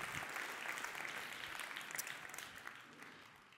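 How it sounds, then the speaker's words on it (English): Audience applause at a business talk, a dense continuous patter of many hands clapping that is fairly faint and tapers off toward the end. "Let's give an applause"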